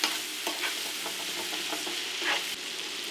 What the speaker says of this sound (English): add a touch of my garlic, ginger. Just saute this just so slightly.